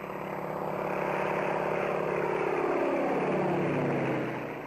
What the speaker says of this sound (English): As Ed held the plane about 200 feet above the ground